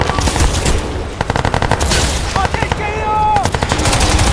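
Automatic machine-gun fire and gunshots in the Crysis 2 Remastered video game, dense repeated bursts loud and close throughout, with brief electronic game tones in the middle.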